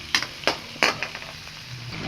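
Garlic, onion and ginger sizzle in a hot pan for chicken tinola, with a few sharp scraping stirs of a utensil punctuating a steady frying hiss.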